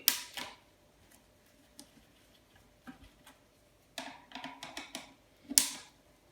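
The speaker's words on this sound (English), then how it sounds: "Now we have a few more little Phillips screws. So this screwdriver might take these out." A screwdriver backing small Phillips screws out of scrap electrical gear, producing sparse close clicks and ticks, then a quicker cluster of taps and a louder rattle.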